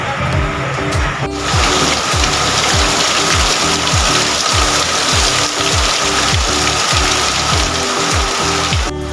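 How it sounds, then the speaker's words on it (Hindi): Steady, dense rain falls outdoors, a loud continuous hiss with a regular low thumping pulse running beneath it throughout. "वर्षा स्टार्ट हो गला"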